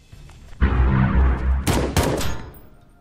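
Rifle fire in the tactical video game End State: a loud, sustained burst of shots, followed by two sharp, separate cracks that echo briefly and fade out.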